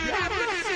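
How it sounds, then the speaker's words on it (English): Blaring air horn sound effect, a short loud wavering buzz that carries through without pause. "I was gonna do the air horns anyway."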